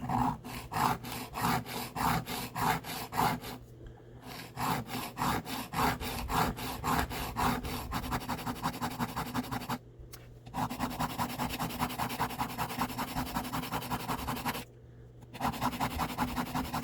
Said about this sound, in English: I'm just going to smooth that broken tip down a little bit.